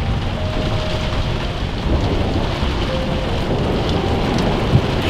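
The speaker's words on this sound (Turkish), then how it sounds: "O bayağı şiddetlendi Cihan. Bence daha bu bir şey değil. Daha bayağı yağacak gibi hissediyorum ben böyle." Heavy rain drums steadily on the roof of a caravan at the seaside, a dense, loud, continuous patter with no voices.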